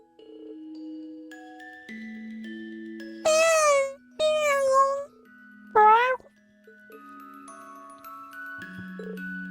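Three clear, loud meows from a kitten in the video game Trails of Cold Steel stand out alone in quick succession over soft tonal game music.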